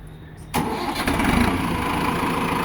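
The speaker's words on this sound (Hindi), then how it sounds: "स्टार्ट करो आप, टर्बो वाले की आवाज़ सुनो किसान भाइयों।" A Mahindra Novo 605 turbo tractor engine cranks and catches sharply, then settles into a steady, loud, close diesel idle with a slight rev early on.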